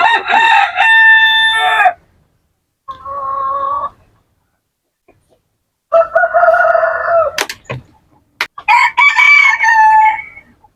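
Aseel rooster and hens crowing and clucking at close range, with loud harmonic crows and shorter cackling bursts separated by brief pauses.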